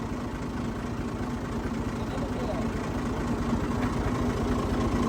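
A tractor engine idles steadily close by, a continuous low, even rumble with a faint knocking pulse and no change in pace.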